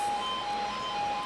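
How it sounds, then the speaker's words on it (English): A train horn for a level crossing near Ardrossan Town, sounded by a six-car class 380 from Ardrossan Harbour to Glasgow Central: a steady two-tone blast holding for over a second, fairly loud over outdoor hiss, no talking. "that was a horn for the level crossing"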